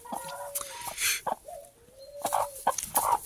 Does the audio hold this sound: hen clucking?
yes